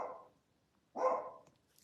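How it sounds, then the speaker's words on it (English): Two faint, muffled barks from a dog somewhere away from the microphone, separated by about a second of quiet. "My dog is still barking."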